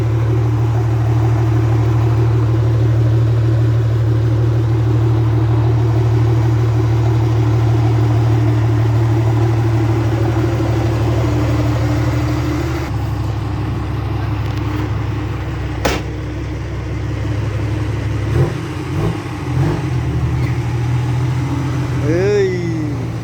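An old car idles with a loud, howling exhaust, a steady low throbbing drone that drops and shifts partway through before brief revs near the end.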